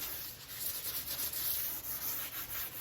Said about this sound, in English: just get a foam block, and you can just kind of rough the edges up a little bit.